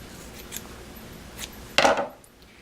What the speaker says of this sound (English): And then I like to cut these at an angle.